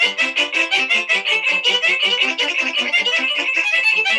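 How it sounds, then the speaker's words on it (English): A Haydn piece plays on a synthesizer in quick, bright, evenly pulsing notes with ensemble timing that drifts from the beat, loud and close with no voices over it. "it's the same piece by Haydn played on a synthesizer"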